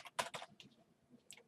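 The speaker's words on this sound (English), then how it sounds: "install_gekko.sh and hit the enter key" Computer keystrokes clicking in a quick burst of several presses, then a few scattered taps and a final firmer key press, close and clear with no talking.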